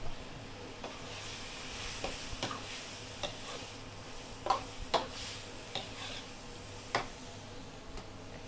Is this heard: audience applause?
no